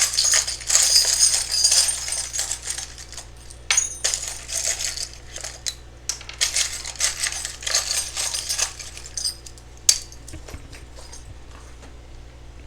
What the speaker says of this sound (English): I just shuffle, shuffle, shuffle until I feel like it's time to take out however many charms I need to